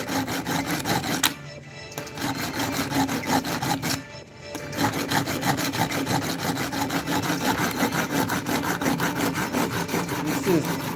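Coarse 36-grit sandpaper rubs hard against wood in repeated rasping strokes, loud and close, with two brief pauses early on before steady scraping resumes.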